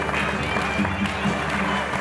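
An audience at a dance performance applauds, a steady patter of many hands clapping together with a voice speaking over it.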